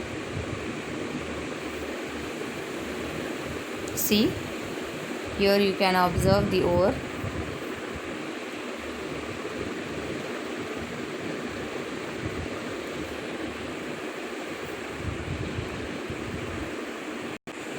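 Water flowing steadily across a Wilfley table washing away gangue from powdered ore, a continuous broadband rushing hiss with someone talking briefly over it.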